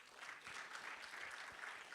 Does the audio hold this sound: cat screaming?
no